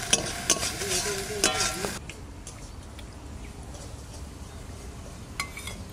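Onion paste hitting hot oil in a kadai with cumin and garam masala, oil left over from frying fish: brisk scraping stirs for about two seconds, then a softer steady sizzle with a faint utensil clink near the end.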